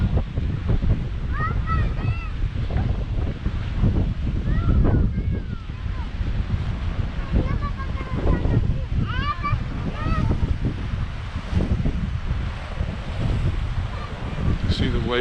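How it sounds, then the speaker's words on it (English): Surf crashes against the rocks below a breezy coastal headland path at Palmanova, Mallorca, a steady loud wash of breaking waves with heavy wind buffeting the microphone throughout. "See the waves crashing on the rocks here."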